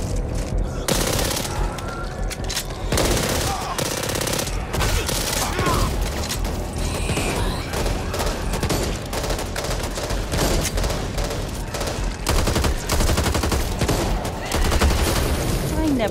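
Rapid automatic gunfire in the co-op zombie shooter Back 4 Blood: loud, dense bursts of shots crackle almost continuously, with brief lulls and occasional game voices underneath.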